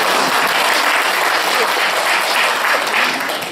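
A lecture audience at a feng shui academic presentation claps to welcome the speaker, a loud, dense, continuous wash of applause that holds steady and eases slightly at the close.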